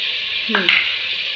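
Mutton seasoned with turmeric and salt sizzles steadily as it is stirred in a hot pan, with a brief scrape of the stirring spoon partway through.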